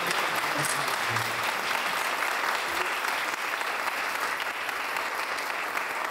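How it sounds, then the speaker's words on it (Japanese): Dense, sustained audience applause fills a hall at a Super Formula season event at Lexus Meets Hibiya as a champion driver is welcomed, with an announcer's voice faintly beneath it. "どうぞ大きな拍手をお迎えください。"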